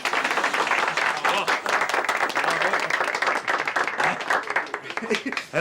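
Lively audience clapping for a dancer at a birthday party, dense rapid claps close by with a few cheers and voices mixed in, continuing steadily throughout.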